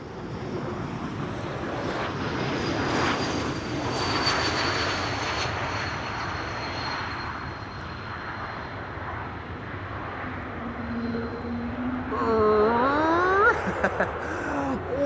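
A KLM Embraer E195-E2 passenger jet at Amsterdam Schiphol Airport roars steadily from a distance, with a broad engine rumble, a faint whine and some wind buffeting on the microphone. Other tonal chirps rise near the end.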